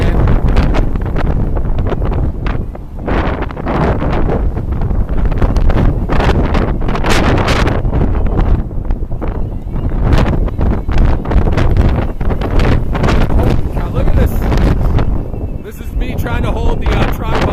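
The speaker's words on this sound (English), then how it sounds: "This might be some of the strongest wind I've felt in a long time" Strong wind batters an outdoor microphone in a snowy setting with loud, gusty rumbling and buffeting throughout, while someone talks beneath the roar.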